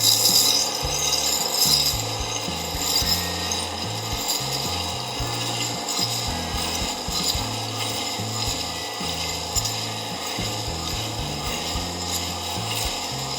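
A wet stone grinder wheel sharpens a blade held freehand, giving a steady, close grinding rub with a continuous mechanical whir and faint rhythmic scraping throughout, no voices.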